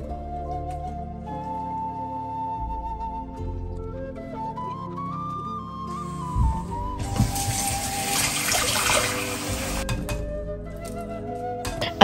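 Homemade butter being washed in ice water, with a broad burst of splashing and running water in the middle, fairly close, set against faint steady background music.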